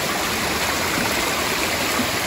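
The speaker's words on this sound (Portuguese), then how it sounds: "Esse ainda é o córrego do Bacon," A polluted creek in Brazil flows steadily along a trail, a continuous close rush and gurgle of water with no voices over it.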